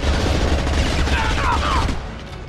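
SMG fire in the video game Mass Effect 2, a dense rattling stream of rapid shots with muffled booms beneath, continuous and fairly loud before trailing off at the end.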